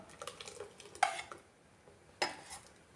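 A spoon scrapes and clinks against a pot as ground coconut, cumin, garlic and chilli paste is stirred into a Kerala-style curry of snake gourd and tomato, three sharp metallic knocks standing out over quiet stirring.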